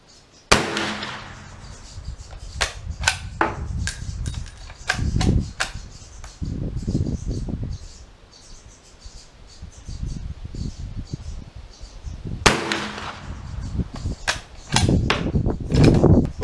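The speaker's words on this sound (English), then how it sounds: "Do some standing fire at 50 yards." Black powder Dutch Model 1871/88 Beaumont-Vitali bolt-action rifle fired standing at 50 yards outdoors: two sharp, loud shots roughly twelve seconds apart, each with a booming tail, amid scattered clicks and handling noise.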